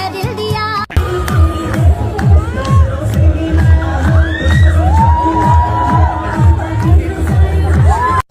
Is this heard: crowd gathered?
yes